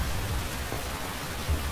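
Steady rain hisses in the Metal Gear Solid 3 game, a dense, even wash of falling water with no pauses.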